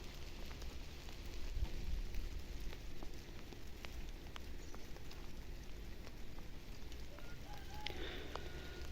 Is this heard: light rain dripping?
yes